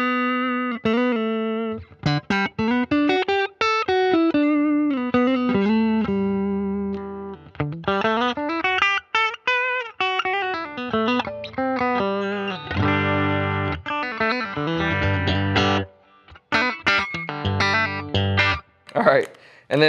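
Fender Stratocaster electric guitar switched between middle, bridge and neck pickups: clean melodic runs and bends, then strummed chords, loud and up close, with little or no speech.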